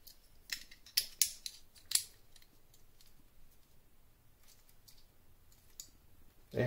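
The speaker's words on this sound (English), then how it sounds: "you can hear that, and you can see it snapped on pretty well" Titanium scales snapping onto a Swiss Army knife, heard as a handful of sharp, close plastic-metal clicks bunched in the first two seconds, then near quiet with one last click at the end.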